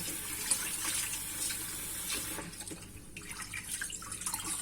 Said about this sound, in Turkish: suyu besberrak olana kadar yıkamaya devam